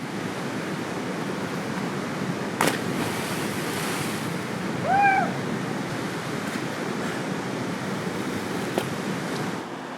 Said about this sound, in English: we got this big, massive waterfall